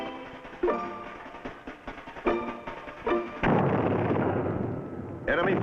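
Mortar shells exploding as enemy fire hits around an infantry company on a hilltop, several sharp booms followed by a long rumbling blast, loud and close.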